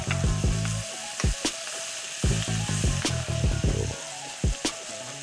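Filet mignon sizzles and spits in a hot pan while being basted with garlic and herbs, a steady close fry broken by repeated sharp bursts as spoonfuls of fat splash over the meat.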